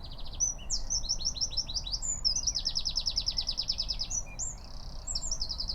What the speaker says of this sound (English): I do love the wren's song.